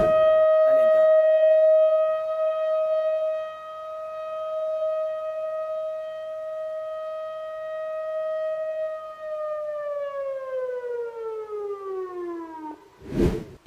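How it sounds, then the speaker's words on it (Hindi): A nationwide emergency siren test in Saudi Arabia: one loud, steady wailing tone holds for around ten seconds, then glides downward and fades, with a brief knock at the end. "पूरे देश भर में इमरजेंसी सायरन का टेस्ट किया गया है।"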